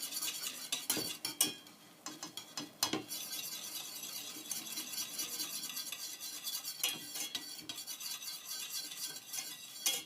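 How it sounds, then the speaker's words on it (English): A whisk beats a slippery elm and flaxseed mixture in a bowl, a fast continuous scraping swish with sharp clinks against the bowl's sides, fairly close and with no voices. "Whisk it in slowly to see if I can avoid the clumps"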